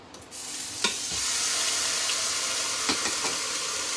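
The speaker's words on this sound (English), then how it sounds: "I am going to sear both sides, and then I will add in the rest." Pot roast searing in a Pampered Chef Quick Cooker, a loud, dense hiss of sizzling fat running continuously after an opening clank, with a few faint knocks and scrapes, no talking.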